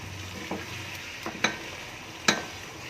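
Garlic ginger paste fries in a pan over low heat for chicken masala, a continuous close sizzle broken by a few sharp stirring scrapes.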